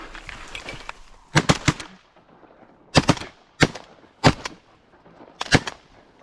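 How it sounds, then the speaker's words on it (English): Shotguns fire during a Wisconsin duck hunt, a series of sharp loud blasts spaced a second or so apart, some in quick doubles, each followed by a short outdoor echo. "Shoot that one again if you got another shell."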